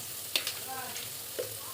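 Potatoes frying in oil in a home kitchen, a soft sizzle with a couple of sharp scraping stirs of a spatula in the pan, brief and close.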